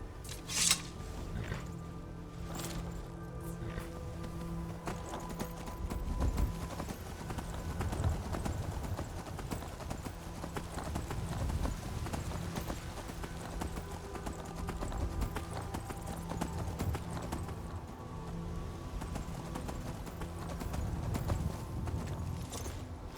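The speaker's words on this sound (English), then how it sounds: "There's my horse waiting patiently for me." A horse in the video game Skyrim Anniversary Edition clip-clops in a steady series of hoofbeats, moderately quiet, amid low game ambience and a faint musical drone.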